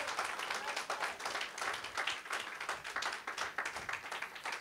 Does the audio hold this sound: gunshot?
no